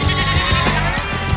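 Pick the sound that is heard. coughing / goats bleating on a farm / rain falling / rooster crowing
goats bleating on a farm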